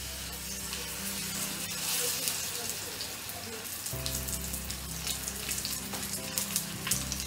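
Stuffed black pomfret, dusted and set into hot oil in a pan over medium gas, sizzles loudly and continuously, the frying crackle rising as the fish goes in.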